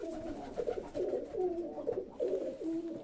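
A Budapest or Zamość breed pigeon coos close by in repeated rolling phrases, each swelling and fading in a steady rhythm, clear and fairly quiet with little else around.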